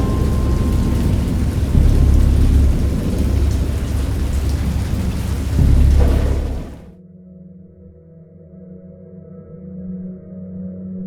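A thunderstorm pours heavy rain with deep rolling thunder, loud and continuous, then cuts to a quieter low rumble that lingers after the downpour ends.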